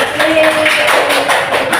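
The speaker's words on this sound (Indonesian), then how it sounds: "Mari kita beri tepuk tangan untuk kelompok" A small class of primary school students claps for a student group in a classroom, a short burst of close, loud, busy clapping with some voices mixed in.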